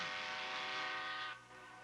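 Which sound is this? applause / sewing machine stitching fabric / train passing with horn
train passing with horn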